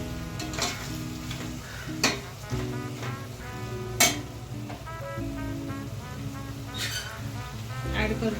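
Three slit green chillies sizzle and crackle in hot oil in a pot as the base for prawn pulao, a steady close frying hiss with a few sharp pops and stirring clinks.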